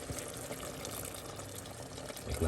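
Water pouring from a tap or jug into a pot of red bean stew with vegetables and butter, a steady splashing, gurgling stream that runs throughout and swells into a heavier, lower splash at the very end.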